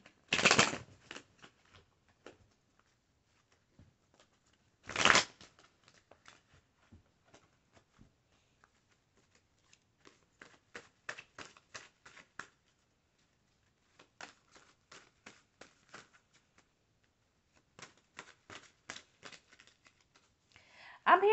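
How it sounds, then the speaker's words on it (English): Tarot cards shuffled by hand during a reading: two loud riffling bursts near the start, then repeated soft card taps and flicks in short clusters, with a brief sound at the very end. "Spirit says shuffle three more times."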